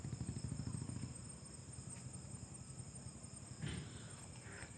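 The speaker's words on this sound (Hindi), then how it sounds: "आपको शायद बैकग्राउंड में ये ग्रास हॉपर्स का साउंड सुनाई दे रहा होगा" A faint, steady high-pitched chirring of grasshoppers runs throughout in the background over a low rumble.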